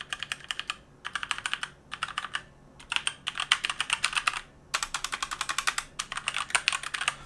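Rapid clattering keystrokes on a Dierya 60% mechanical keyboard with red switches come in bursts of typing separated by brief pauses, close and crisp with a soft low background hum.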